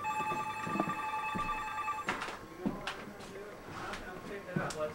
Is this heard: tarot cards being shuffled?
no